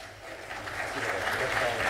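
Audience applause at the Baku 2006 jazz festival after a laureate's performance, a wide wash of many hands that swells from quiet to fuller and stays steady, fairly distant.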